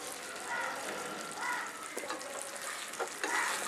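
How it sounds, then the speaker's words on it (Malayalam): Onion, spring onion and capsicum being stirred in a pan for chilli gobi, with soft sizzling and occasional scraping taps of a spoon, moderately quiet and without talk. "ഇതെല്ലാം കൂടെ ചേർത്തിട്ട് നന്നായിട്ട് ഇളക്കി കൊടുക്കാം"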